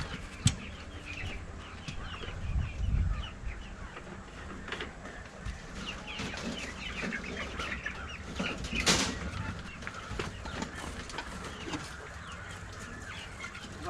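Chickens cluck and call around a farm during morning chores near the chicken coops, with scattered wing flaps and a rooster-like cry amid a steady outdoor background, no talking.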